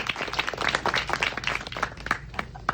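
Audience applause at a film Q&A screening, a crowd clapping in a continuous, uneven patter with sharper individual claps standing out, heard close and without speech.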